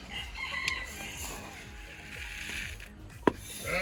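German Faverolles chickens in a poultry yard, a rooster crowing once fairly near amid soft clucking and low background noise, with a sharp brief sound near the end.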